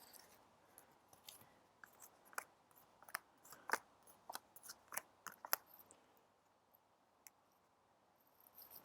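Tarot cards being handled and gathered into a deck, with soft papery slaps and riffling clicks in irregular bursts, close and quiet with no talk.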